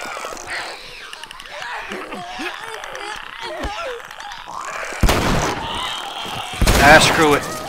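Gunfire in the video game The Last of Us: two loud, sharp gunshots break through a quieter stretch of game sounds, with a person talking during the clip.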